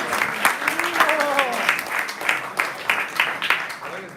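An audience clapping hands at an ISKCON Atlanta gathering, dense close applause with irregular sharp claps, heard together with voices talking over it throughout.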